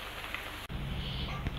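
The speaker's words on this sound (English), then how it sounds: "still raining out there" Steady rain falls outside under a heavily overcast sky, a constant hiss of drops with no other clear sounds.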